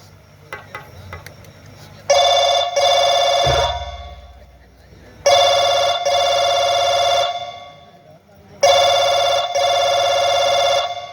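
A telephone rings after a number is dialed, three long bursts of a loud electronic ring separated by short pauses, with faint clicks and handling noise before the first ring.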